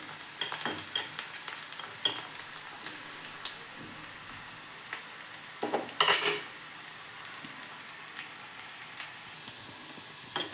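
Sliced onion and curry leaves fry in a pan for an egg curry, a soft continuous sizzle broken by scraping stirs and a few clinks of a spoon against metal, close and moderately quiet, with no talk.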